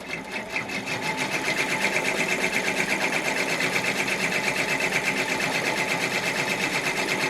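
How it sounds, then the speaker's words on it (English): A sewing machine stitches gloves, running at a steady fast rhythmic whir from close by after a short start-up, loud and continuous with no talk. "So it is stitching now."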